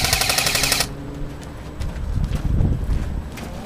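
Airsoft gunfire at an outdoor skirmish: a dense burst of rapid clicking shots for almost a second, then scattered quieter pops and rustling movement with some distant low thumps.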